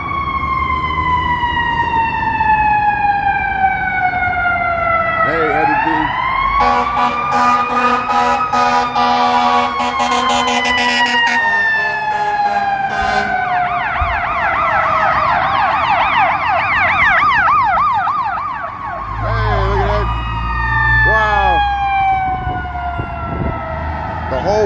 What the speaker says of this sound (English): Here come some sirens here.